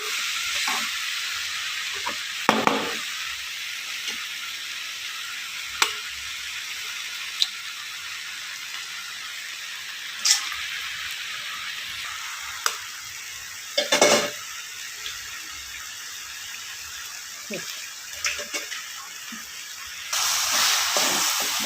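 Eggs cooking in a pan with drumstick leaves and banana flower, a soft steady sizzle broken by occasional sharp scrapes and clinks of stirring, louder frying bursts near the end.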